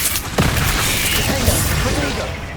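A Confringo spell blast in the video game Hogwarts Legacy, booming explosive bursts with sharp pops over a loud, dense combat din, close and forceful.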